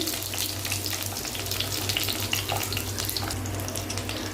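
Capsicum and onion frying in hot oil for a gravy, a steady dense sizzle with fine crackle running evenly throughout, fairly close and alone with no voices.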